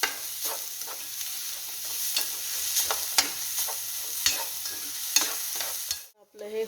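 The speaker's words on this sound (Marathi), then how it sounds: "आता चांगलं परतून घ्यायचंय." A sugar mixture for fasting kachori filling is sautéed in a pan, with a spatula scraping and tapping in irregular strokes over a soft, constant sizzle, heard close up and without talk until it cuts off near the end.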